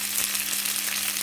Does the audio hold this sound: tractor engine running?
no